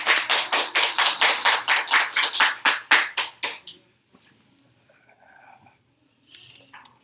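A small church audience at a Korean couples' school gathering claps in a quick rhythmic burst of about a dozen beats that fades out after a few seconds, leaving quiet room sounds.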